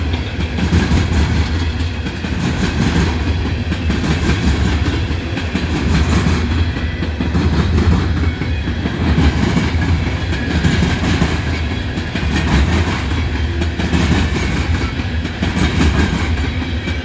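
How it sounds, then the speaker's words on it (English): A BNSF freight train rolls past on the rails, with a distributed-power locomotive at the rear. The wheels keep up a loud, continuous clickety-clack and rumble that pulses steadily throughout, with no voices. "I think I see the bottom end of the train sneaking up."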